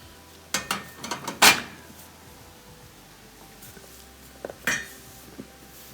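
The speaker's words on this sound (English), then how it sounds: "we're going to put these drip pans back in" A few clattering metal knocks and clinks as metal drip pans are set back onto a Viking range stove, one sharp bright clank in the middle and a softer pair near the end.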